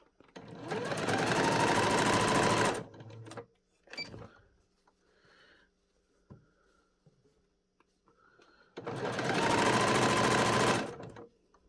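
An electric sewing machine stitches an elastic casing on a pleated tartan doll skirt. Two sustained, loud runs of rapid needle whirring bracket a quiet middle stretch with faint handling clicks and fabric rustles.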